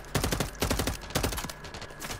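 Dense gunfire from the Call of Duty video game, rapid bursts of shots packed close together and loud throughout, with no talk over it.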